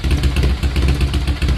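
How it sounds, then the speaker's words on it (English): A warmed-up Kawasaki KZ750 twin motorcycle engine idling with a slightly rough carburetor float level, a loud, close, steady lumpy pulsing with light mechanical clatter. "I'll insert it sitting idling, warmed up, before I adjusted the float level"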